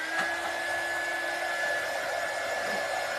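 A hair dryer blows steadily on a finished craft piece, a constant close whir with a faint high tone that holds at even loudness for a few seconds, no talking.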